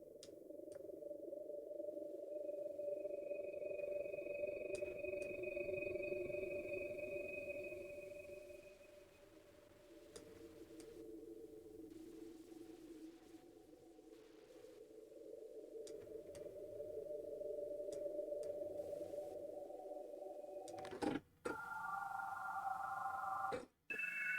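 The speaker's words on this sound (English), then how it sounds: "just add a little noise from the bit crusher too" Synth noise run through a bit crusher in a music production session, a gritty droning tone with wavering, warbling pitch, later broken by short glitchy bursts and abrupt cut-outs.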